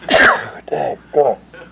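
Someone at a West Virginia basketball postgame press conference gives a single loud, sharp sneeze near the microphone, followed by a few short spoken words.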